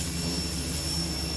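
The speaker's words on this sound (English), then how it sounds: "It's actually doing some work with the sander, the power washer." A power washer strips paint off a duck boat hull, producing a constant loud hiss and roar of high-pressure spray with a thin steady whine above it, alone and continuous.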